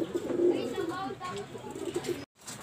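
Racing pigeons cooing close by while they feed, with low repeated coos, voices talking over them and a brief cut to silence near the end.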